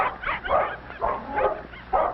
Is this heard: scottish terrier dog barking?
yes